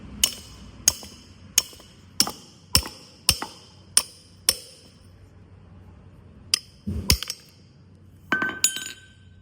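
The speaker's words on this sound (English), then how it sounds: "I've got that seal beat so far down in there, it's hard to even get my chisel in it" A hammer drives a chisel against a seal inside a Ford F250 wheel hub, sharp metallic clinks in a steady run of about eight evenly spaced blows, then a pause and a few quicker, scrappier strikes, close and without talking.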